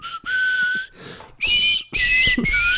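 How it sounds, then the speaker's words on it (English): Soft, airy whistling done without pursed lips, in three short phrases, each a sustained wavering tone with breathy hiss, separated by brief pauses. "The sneaky whistle is my favorite one because you can do it without your mouth like looking like you're whistling."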